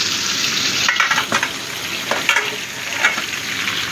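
Ridge gourd frying in a pan over a high flame, a steady close sizzle with a few brief stirring scrapes and no talk.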